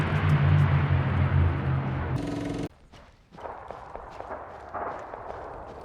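Gunfire in a World War II video game: a loud, dense burst of firing with rumbling for a couple of seconds, then a sudden cut to quieter scattered sharp cracks and thuds.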